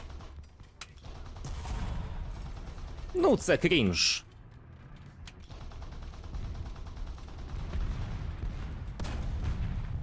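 A brief loud burst of gunfire and whizzing shots in War Thunder, playing the Ikv 91 tank, over a low rumble, with someone talking nearby.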